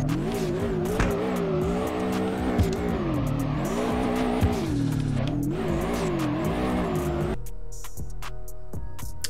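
A Toyota AE86 with a boxer engine drifts in the DRIFT21 racing game, its engine rising and falling in wavering revs beneath sustained tire squeal, then cutting off near the end to quieter, scattered game sounds.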